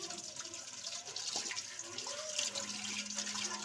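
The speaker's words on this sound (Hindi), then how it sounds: "पहले हम मदानी अच्छे से साफ धोएंगे।" Running tap water splashes over a masher being rinsed in a kitchen sink, a faint, continuous trickling wash with no talk.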